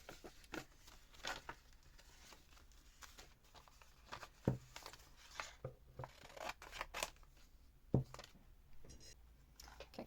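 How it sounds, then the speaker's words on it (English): Scissors snip through paper from a paper bag in a trash-to-treasure craft project, producing a series of soft, close cuts and rustles at an uneven rhythm, with no talking. "So let's just cut up there."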